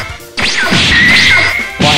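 Cartoon fight blows land in a loud, dense flurry of whacks and swooshes with a rising whistle-like tone, forming one continuous close burst of comic impact effects.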